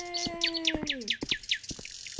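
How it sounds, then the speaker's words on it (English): A bird in Five Nights at Freddy's gives a quick series of bright, clear chirps and tweets, repeated about a dozen times over a couple of seconds, near and alone with no voices. "The chirping bird sounds beautiful."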